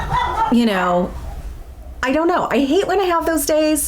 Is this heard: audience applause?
no